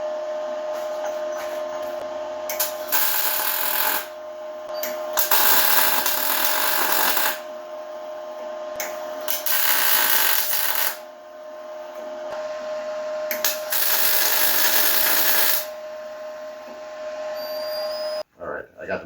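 An engine motor mount is tack welded during an M715 engine swap. The welder gives off loud, close, crackling buzzes in bursts of several seconds, separated by brief quiet gaps, over a steady background hum.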